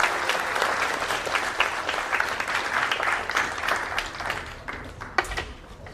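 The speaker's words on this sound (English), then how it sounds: "so give him a round of applause." An audience at a school humanities symposium applauds a panel host, a dense, sustained wash of many clapping hands in a hall, steady for several seconds before thinning, with a couple of sharper claps near the end.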